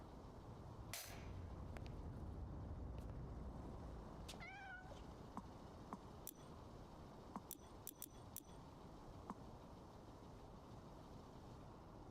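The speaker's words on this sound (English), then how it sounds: "We even got a cat." A cat meows in a video game, a short rising and falling cry near the middle, with clicks and small taps over a steady background hum.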